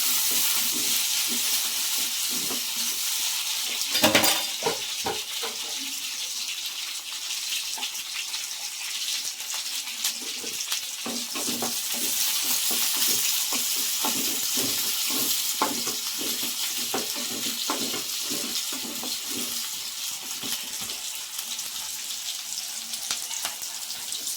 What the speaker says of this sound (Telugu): కరివేపాకు వేసుకున్నాము. ఇది కొంచెం వేగనియాలండి.